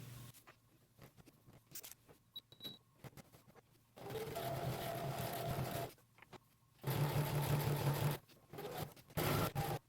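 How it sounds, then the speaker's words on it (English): Sewing machine zigzag stitching down the inner seam of a fabric jelly roll rug, running in bursts of a few seconds each with quiet pauses between, its fast mechanical whir heard close and clear. "I have to zigzag all the way down this inner seam"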